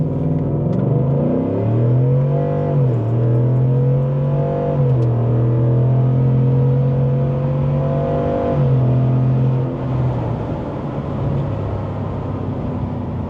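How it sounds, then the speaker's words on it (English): A pickup truck in four-wheel drive launches hard on a gravel road, its engine revving through rising and falling gear pulls, loud and close with tyre noise beneath. "So 4-wheel drive launch,"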